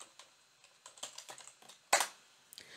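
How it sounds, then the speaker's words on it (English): Keys clatter on a computer keyboard as a short chat message is typed, with quick irregular taps, one louder key strike near the end, close and quiet without talk. "And we can type a message into live stream."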